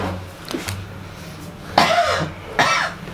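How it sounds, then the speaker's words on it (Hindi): A child coughs in a comedy hospital scene, with a few faint throat sounds early on and then two sharp, close coughs near the end. "बच्चे को खांसी हो रही"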